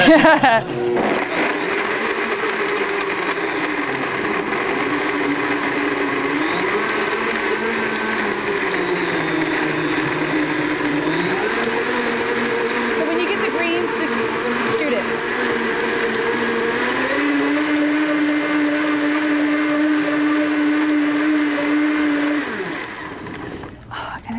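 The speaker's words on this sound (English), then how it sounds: "this is a very special blender" A high-speed blender runs loudly for over twenty seconds, its motor pitch rising and shifting in stages as it churns.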